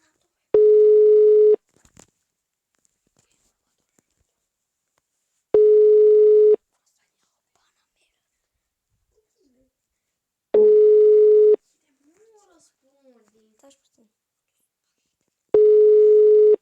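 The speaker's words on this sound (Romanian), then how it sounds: "Sună la un număr." Phone ringback tone while a call to a number connects: four loud, clean one-second beeps spaced about five seconds apart, with near silence and a few faint murmurs in the gaps.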